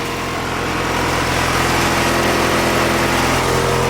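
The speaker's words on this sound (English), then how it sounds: "It has a huge exhaust leak." Car running on E85 idles with a huge exhaust leak, giving a steady, rough, close rumble that carries on unbroken with no voices.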